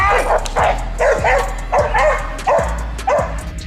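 A Bull Terrier barks and yips in short, closely spaced bursts, about five or six loud near calls over a few seconds with a low steady hum underneath.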